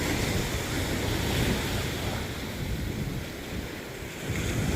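Sea waves breaking on a beach in strong wind, a loud, continuous rushing wash with gusty microphone buffeting that swells and eases, with no voices.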